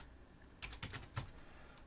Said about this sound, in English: And now when I start typing A-L-L-E-G